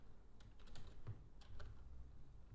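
Faint keystrokes on a computer keyboard tap in short irregular bursts, quiet and close, with brief pauses between clusters of typing and no speech.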